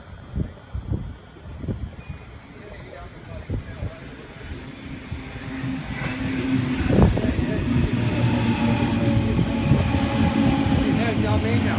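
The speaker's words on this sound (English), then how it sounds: "Here's a passing train on platform" A train passes through Ashfield station without stopping, a rising rumble and rhythmic wheel clatter building from faint to loud and close, with brief voice in the background.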